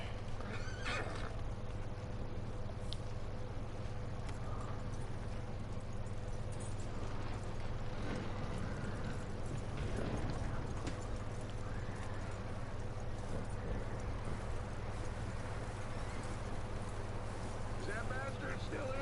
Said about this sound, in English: this will be the horse that we'll end up using throughout the story mode